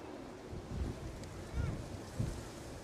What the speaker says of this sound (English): Wind is picking back up.